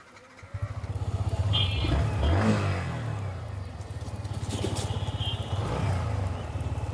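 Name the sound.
motorcycle engine revving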